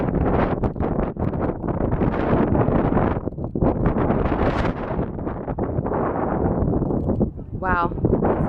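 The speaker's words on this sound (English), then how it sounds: "I know it's super windy out here." Strong gusts buffet the microphone outdoors near the Hoover Dam on the Nevada–Arizona border, a loud, continuous rumbling roar with a voice speaking through it.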